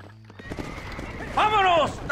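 A horse whinnies loudly amid hoofbeats and game noise in the video game Red Dead Redemption, following shouted voices at the start.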